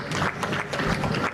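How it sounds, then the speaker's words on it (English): A brief burst of applause from a group, a short run of clapping at moderate loudness. "Another round of applause, please."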